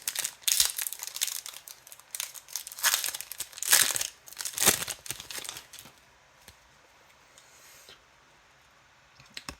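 A Yu-Gi-Oh booster pack wrapper is crinkled and torn open up close in bursts of loud crackling plastic, then the noise drops to a few faint rustles and clicks.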